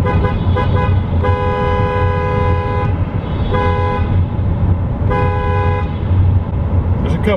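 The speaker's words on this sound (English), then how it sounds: "There's a couple people honking back." Car horns honking repeatedly inside a road tunnel, several long sustained toots in bursts, loud and echoing over steady road rumble from the moving vehicle.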